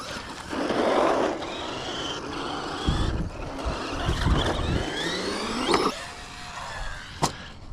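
Traxxas Rustler RC car launching hard off a ramp outdoors, its electric motor whirring and revving up in a rising whine, then clattering bumps and a sharp landing thump near the end.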